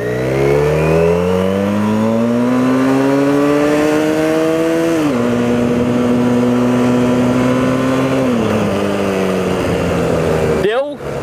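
A Honda CBR 450SR motorcycle revs hard up through first gear, its loud engine whine climbing steadily close by and peaking near ten thousand rpm before backing off.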